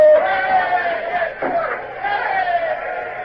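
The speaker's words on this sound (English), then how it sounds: "What are those idiots cheering" A ship's crew cheering on a naval vessel at night, sustained and loud, with shouting voices rising and falling together across the whole stretch.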